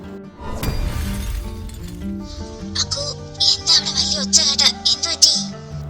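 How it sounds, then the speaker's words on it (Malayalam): A drinking glass breaks with a sudden crash, followed by a scattering of bright, tinkling shards and chimes that ring out intermittently for several seconds over low background music. "വെള്ളം കുടിക്കാൻ എടുത്ത ഗ്ലാസ് പൊട്ടിപ്പോയല്ലോ"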